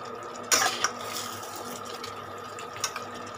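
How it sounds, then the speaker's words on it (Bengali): Hot water is poured into a simmering chicken curry. Two short splashy bursts, one early and one near the end, stand out over a quiet kitchen background. "আচ্ছা, এর মধ্যে এবার আমি একটু গরম জল দেব।"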